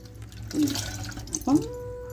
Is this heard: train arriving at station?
no